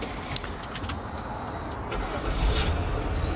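A Samsung SM7 sedan starting up, a low engine rumble building and settling into a steady idle, with faint clicks and a muffled voice in the cabin.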